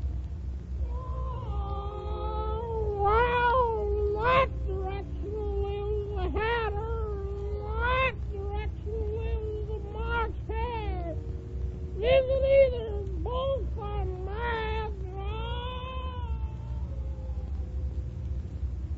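A Cheshire cat meows and caterwauls repeatedly in a radio drama sound effect, the wavering, drawn-out cries rising and falling over a steady low rumble and held close and fairly loud throughout.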